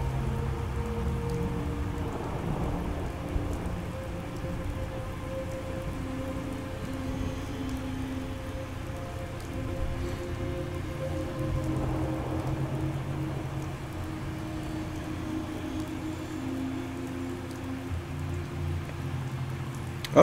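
Steady rain falls in Fallout 4, a continuous wet hiss of drops pattering on surfaces with low rumbling beneath, holding an even level throughout with no talking.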